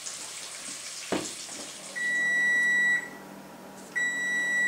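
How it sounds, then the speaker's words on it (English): A kitchen timer buzzer goes off for baked potatoes, sounding two steady electronic beeps of about a second each, separated by a short pause, loud and close in a quiet kitchen. "Oh, my buzzer is going off here, my baked potatoes."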